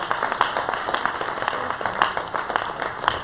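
Church worshipers clap together in a brisk, steady rhythm, a room full of hands sounding moderately loud and continuous.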